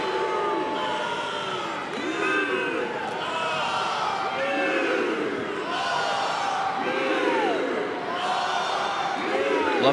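Crowd in the Rutgers arena at a Big Ten heavyweight wrestling match, a steady roar of cheering and shouting close around the mat that swells and falls throughout, with a commentator's voice woven in.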